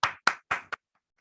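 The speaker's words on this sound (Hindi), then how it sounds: "रगड़ के ताली बजाइए अच्छे से" A live audience claps hard in four short, sharp bursts of applause, each dying away quickly with brief silences between, ending in quiet.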